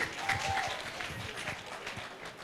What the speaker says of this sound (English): Give a round of applause for yourself.